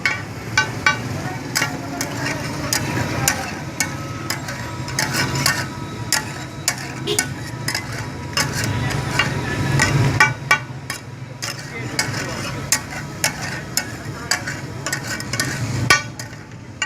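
Chicken pieces sizzle and crackle on a hot tawa griddle, a steady frying hiss broken by frequent sharp ticks and taps from a utensil, with a voice speaking intermittently over it.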